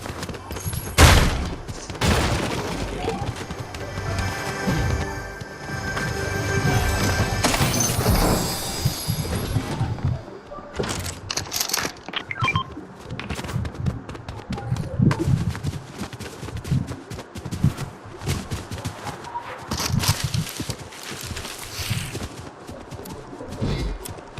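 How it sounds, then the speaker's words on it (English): Rapid bursts of gunfire crackle through a busy, noisy Fortnite soundscape, heaviest early on, then scattered shots and thuds continue. "I'm hearing gunshots at Lavish there."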